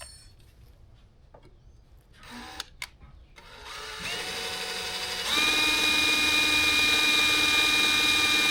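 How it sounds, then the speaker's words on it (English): A power drill whirs on a Yamaha WaveRunner while drilling out a screw, starting after a few faint clicks and mechanical knocks, then running steadily and growing louder with a high whine that holds to the end. "I should be able to get to this here to drill it out and put the new screw in"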